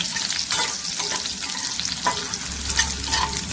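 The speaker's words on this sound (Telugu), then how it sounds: "కొంచెం జీలకర్ర వేస్తున్నాను, 2 ఎండుమిరపకాయలు వేస్తున్నాను" Cumin seeds and whole dried red chillies fry in hot oil with garlic, a dense, constant close-up sizzle and crackle with a few light stirring scrapes, no voices.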